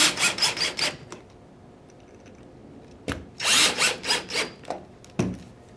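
A power drill fitted with a Phillips head bit drives the front grip screw and grip frame screw back into a Gryphon, in two bursts of short whirring pulses separated by a pause, close and fairly loud, with no talking.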